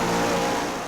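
A heavily modified 1972 Vauxhall Victor drag car, the Red Victor, roars with a loud, dense, close engine note held for under a second, fading slightly at the end.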